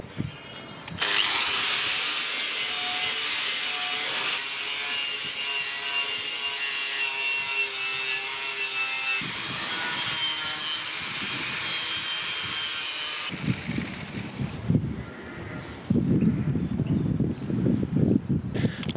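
A Norton wire wheel on a power tool scours rust off metal during a Mercedes 310D OM602 engine bay refurbishment, giving a steady, loud abrasive whir with scraping surges that go rougher near the end.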